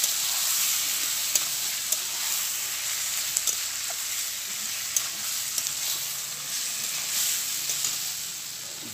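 Chicken pieces fry and are stirred in hot oil in a pan for a red chicken curry, a steady close sizzle with occasional soft scrapes and clicks of the spoon throughout, no talking.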